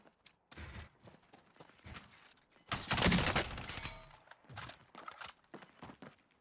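Gunfire in the Warzone battle royale shooter, a few faint scattered shots and one louder burst of fire in the middle, with quiet thuds and footsteps between them.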